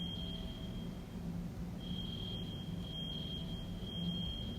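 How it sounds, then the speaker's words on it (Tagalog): A high, steady electronic alarm tone sounds continuously, with a short break, over low background rumble; repeated beeping chirps join in near the end. "Yung smoke detector, meron siguro nagluluto. Tapos, na-trigger yung alarm."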